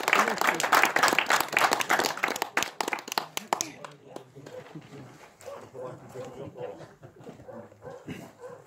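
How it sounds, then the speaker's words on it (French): Spectators at a roe deer hunting dog competition in Eglisolles clap for a few seconds, with brisk, lively applause that thins out and gives way to a quieter stretch of voices. "On peut l'applaudir."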